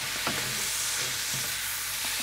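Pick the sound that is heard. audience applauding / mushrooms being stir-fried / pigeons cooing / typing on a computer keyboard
mushrooms being stir-fried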